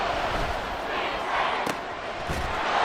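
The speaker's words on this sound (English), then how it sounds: "The Arrowhead crowd in full roar." A Madden NFL 24 video game recreates a roaring stadium crowd at Arrowhead during a Colts versus Chiefs game: a loud, dense, continuous roar with a couple of sharp thuds.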